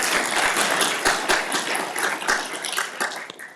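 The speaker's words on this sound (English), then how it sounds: "Let's have a round of applause then." A panel audience breaks into applause, a dense patter of many hands clapping steadily for a few seconds in a room, with no talking over it.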